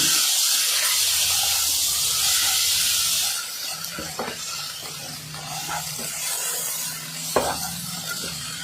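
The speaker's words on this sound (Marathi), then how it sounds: "व व्यवस्थित असं हे मिश्रण परतून घेणार आहे." A garam masala and ground coriander-cumin spice mixture for Kolhapuri misal is sautéed in a pan, giving a steady hiss and sizzle with faint scraping stirs, louder at first and then settling lower.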